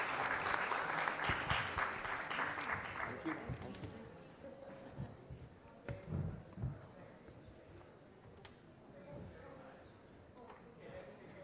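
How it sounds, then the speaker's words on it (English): Audience applause at the close of a panel talk, fairly loud at first and then thinning out into scattered claps, with voices talking underneath. "Please give them a round of applause"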